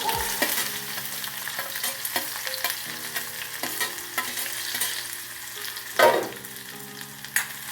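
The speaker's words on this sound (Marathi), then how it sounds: "तेल तापलेलं आहे मोहरी घालून घ्यायचं जिरं मोहरी थोडी थोडं कांदा घालून घ्यायचं" Onion, cumin and mustard seeds frying in hot oil in a home kitchen, giving a close, steady sizzle with occasional clinks and scrapes of stirring, with no voices.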